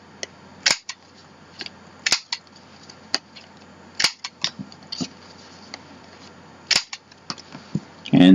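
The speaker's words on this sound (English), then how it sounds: "I'm going to round the corners of each piece." A corner punch rounds the corners of paper pieces for a mini album, making sharp, close clicks and snaps spaced irregularly over several seconds with short quiet gaps between them. No one speaks.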